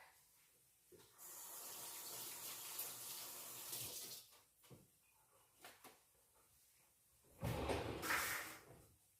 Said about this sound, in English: Let me go wash my hands.